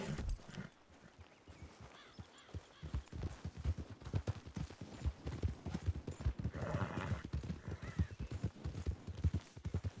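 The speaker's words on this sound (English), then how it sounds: "That horse is so fast." A fast horse galloping in a Wild West role-play video game, hooves drumming in a steady rapid rhythm close by, loud and continuous throughout, with no talk over it.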